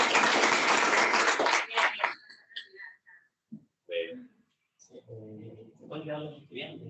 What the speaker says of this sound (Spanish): Un último aplauso, creo que estamos.